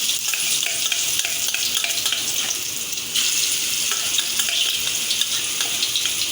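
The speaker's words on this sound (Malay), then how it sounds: "kita panaskan minyak Sebutkan api dulu Letak bawang putih dan halia" Garlic and young ginger paste fries in hot oil with a loud, continuous crackling sizzle that surges briefly midway, heard alone without speech.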